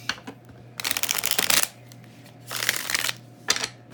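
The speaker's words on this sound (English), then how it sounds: "Let's give this one more quick shuffle." Tarot cards are shuffled in quick riffling bursts, three close, crisp flurries of paper flapping separated by short pauses.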